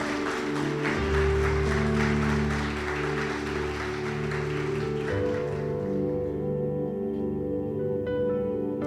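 A church congregation applauds over sustained keyboard or organ chords, a thick round of clapping that thins out after several seconds while the music rings on.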